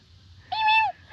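A prairie dog gives a single short whistle chirp out in Nebraska, one clear, fairly loud call about half a second long over quiet background.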